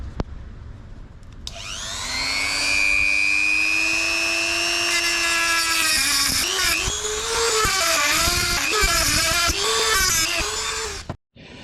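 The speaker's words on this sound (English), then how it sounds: "with a cut-off wheel, just grind that away and remove this section" A cut-off wheel grinds through a coolant hose on a BMW N54 engine during a single-turbo install, a loud whining motor that spins up, holds a steady pitch, then wavers as it bites, before stopping abruptly.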